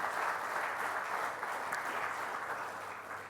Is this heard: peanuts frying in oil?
no